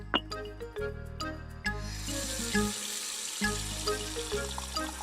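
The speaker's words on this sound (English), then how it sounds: "She filled a bowl with cold water." Water runs from a tap into a container, a steady splashing stream under soft background music with a few chime-like notes.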